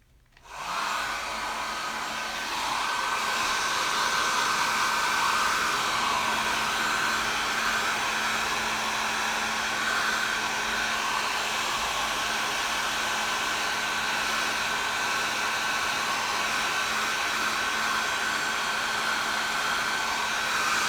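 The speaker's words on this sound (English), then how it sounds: "So I gotta blast it with a hairdryer." A hair dryer blasts steadily at wet watercolour paper to dry puddles on a sunflower jar painting, a loud continuous whooshing roar that starts abruptly and holds for about twenty seconds with no talking.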